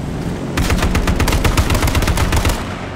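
Rapid automatic gunfire in a shooter video game, a loud close burst of evenly spaced shots lasting about two and a half seconds, with no talk over it.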